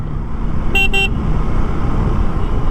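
A vehicle horn honks twice in quick succession on a road in Ooty in the Nilgiris, short bright toots over loud, continuous traffic and engine rumble.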